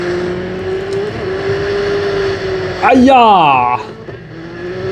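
Race car engines in a snowy night race in the Dirt 5 video game, set in Manhattan Park and along the East River, New York, with a steady engine drone, then a sharp rising rev surge and a brief exclamation.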